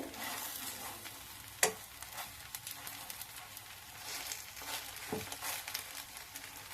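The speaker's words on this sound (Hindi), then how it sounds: "तो देखिए दबा दबा के इसको मैं अच्छे से सेक लूंगी हाई फ्लेम पे" Pav bread toasts in a pan over a high flame, a soft steady sizzle with faint crackles and one sharp clack of a utensil against the pan.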